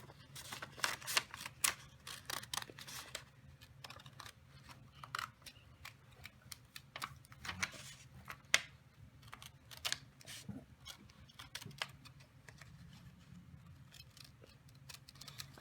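Scissors snip out a small photo circle for a homemade Mod Podge coaster, giving a close, quiet run of crisp cuts that cluster early and then continue as scattered clicks over a low background hum, with no talking.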